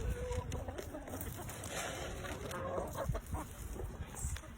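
Hens and a rooster clucking at a camp chicken yard, in a busy, noisy outdoor setting, with steady background clatter and faint voices.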